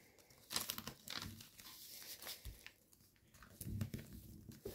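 Paper being folded for an origami helicopter model, giving close, irregular crinkling and crumpling bursts with brief tearing-like rustles, alone without talk.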